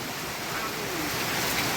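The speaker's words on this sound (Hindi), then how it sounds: "बारिश आज काफ़ी तेज़ पड़ गई है" Heavy rain pours down in a steady, dense hiss that fills the whole stretch evenly, close and loud, with no break and no voices.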